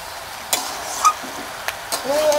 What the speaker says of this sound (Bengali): ভেজে রাখা চিংড়ি মাছ দিয়ে দিচ্ছি।